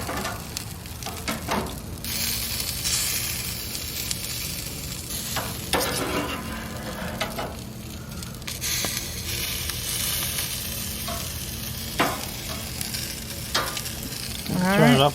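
Bacon-wrapped stuffed pork chops sizzle steadily on a grill, a dense, continuous crackle and hiss with occasional scrapes and shifts as the meat is turned, close and constant for the whole stretch.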